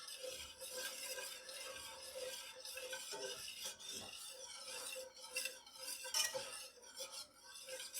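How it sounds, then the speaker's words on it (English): Cream for fettuccine alfredo sauce whisked in a pan, with steady metallic scraping and clinking of the whisk against the pan and a faint sizzle underneath, heard alone and fairly quiet. "you want to keep whisking so that way there aren't any hot spots on the cream"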